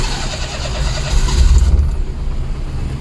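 A Perodua Kancil car with an overheating fault is cranked and its engine starts: a short starter whirr, then the small engine catches with a low rumbling surge and settles into a steady idle, close and fairly loud.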